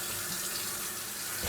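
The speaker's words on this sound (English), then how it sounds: "So plugging up the sink. Cold water on." Cold tap water runs steadily into a plugged sink during home beer brewing, a continuous close hiss and splash that holds at an even level throughout.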